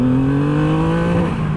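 A 2022 Triumph Rocket 3 R Black motorcycle engine drones loudly and steadily under throttle, its pitch sagging slightly toward the end.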